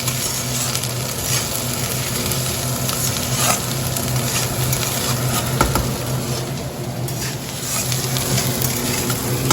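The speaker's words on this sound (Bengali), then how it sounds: "সমস্ত সবজি হালকা ভাজবো।" Cabbage, capsicum and other vegetables sizzle steadily as they fry lightly in a pan for chicken soup, a close, continuous hiss broken by occasional stirring scrapes.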